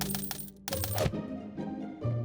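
Coins drop and clink as a cartoon sound effect, with a bright metallic jingle followed by a few smaller rattling clinks, close and clear.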